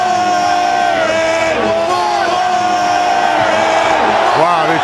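Philadelphia Eagles fans in a football stadium roar and cheer together, a loud, sustained wall of voices with swelling yells and whoops that rise and fall continuously.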